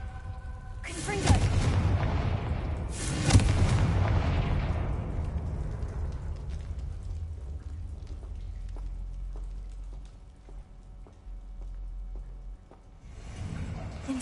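Confringo fire-blast spell in Hogwarts Legacy: two loud booming blasts roughly two seconds apart, each trailing off into a long rumbling decay, with game ambience continuing and a softer thump near the end.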